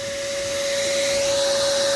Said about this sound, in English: I'm trying to fucking vacuum this